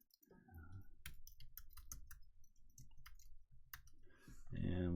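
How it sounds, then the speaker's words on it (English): Computer keyboard typing, quick clustered key clicks at close range under a man's speech, ending with a louder burst of sound. "I'm going to go ahead and just type in this here"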